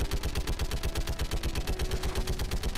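Rapid automatic gunfire in Mass Effect 3 during a firefight against geth: a steady, loud stream of evenly spaced shots rattling on without pause.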